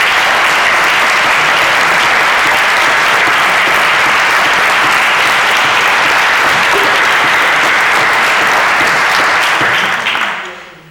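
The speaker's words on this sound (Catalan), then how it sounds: "si esperem un xicotet aplaudiment per tot el que han fet, jo us ho agrairia" A room full of attendees at a book presentation of a photographic memoir of Ontinyent applauds loudly and steadily for about ten seconds before the clapping cuts off abruptly.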